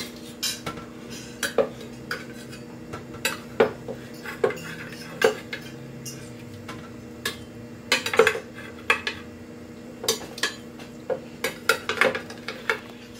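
Metal utensils clink and scrape against a cooking pot as seared pork ribs and sauce go in, in repeated bursts, with a faint sizzle underneath and no talking.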